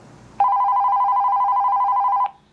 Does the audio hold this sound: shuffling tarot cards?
no